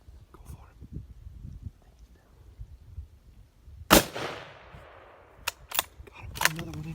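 A rifle shot cracks loudly once during a Utah deer hunt, followed by a long decaying echo and a few sharper pops, after quiet whispering and rustling in the open.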